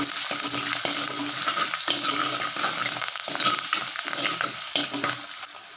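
Garlic and curry leaves fry in oil for a spicy tamarind kuzhambu, a steady close sizzle and crackle with soft stirring scrapes running throughout, no voices.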